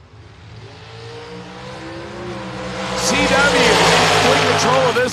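Drag racing at a strip during a Halloween bracket event: a car engine idles then swells into a loud rising roar as dragsters launch, while an announcer talks over it.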